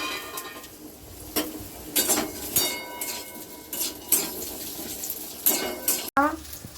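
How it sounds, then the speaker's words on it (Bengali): Lightly steamed potatoes fry in hot oil, giving a soft continuous sizzle, while a spatula scrapes and stirs them in the pan in repeated clattering bursts. "এবার আলুগুলো ভেজে নেবো, হালকা ভাপিয়ে রাখা আলু"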